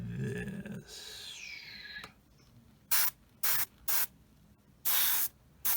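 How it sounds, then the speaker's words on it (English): Airbrush or spray can painting a 1/35 Tamiya Sdkfz 250/3 Greif scale model, several short loud hissing bursts of spray separated by pauses, after a brief hum at the start. "I'm just going to spray it all, and then I'll mask it off or something and spray the radios."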